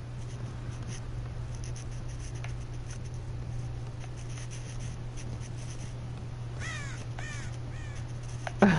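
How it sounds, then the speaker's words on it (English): Crow caws in the video game Dead by Daylight, two brief calls late in the clip over a steady low game ambience hum. "Ooh, crow."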